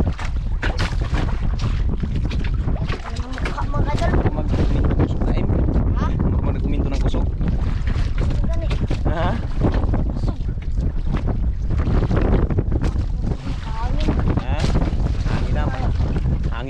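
Strong, roaring wind of a storm squall buffets the microphone nonstop at sea, a dense, loud rush with gusts and voices faintly shouting beneath it.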